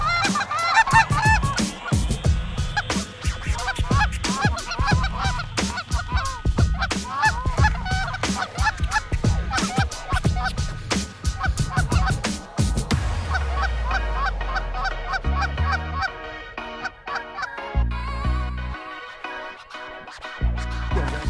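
A large flock of geese flies in over a goose hunt in Alberta, Canada, honking loudly and continuously at close range. The calls thin out near the end into scattered honks over low rumbling thumps.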